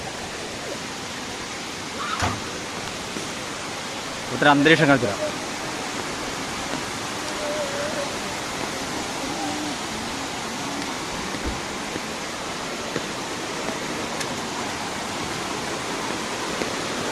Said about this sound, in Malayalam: കണ്ടോ വെള്ളച്ചാട്ടതാ.